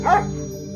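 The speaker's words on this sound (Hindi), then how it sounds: "जादुई सफेद कौवे को देखकर शेरू भौंकने लगा।" A dog barks once in an animated Hindi moral story, a single short bark followed by a fading whine over a steady background music tone.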